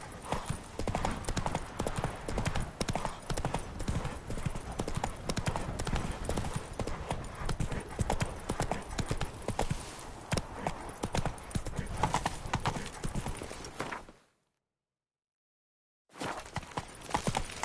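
In the Witcher 3 video game, a ridden horse's hooves clip-clop in a steady, continuous gait, close and moderately loud, broken by a brief silence near the end before resuming.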